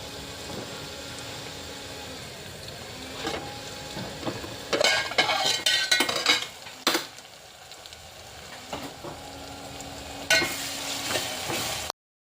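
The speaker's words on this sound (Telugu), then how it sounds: "ఇది కొంచెం ఆయిల్లో మొత్తం ఫ్రై కానిద్దాం" Coriander, tamarind leaves, mint and fenugreek fry in hot oil in a pan, giving a steady sizzle with bursts of stirring and scraping in the middle and again near the end, without any talking.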